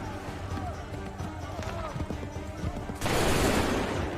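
A volley of musket gunfire from a line of soldiers in Assassin's Creed III, bursting out as one loud crackling blast after a few seconds of scuffling and footsteps.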